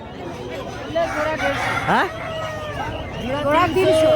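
Chickens and roosters in the poultry section of a village livestock market cluck and crow nearby, with one clear rooster crow in the middle, while people talk around them.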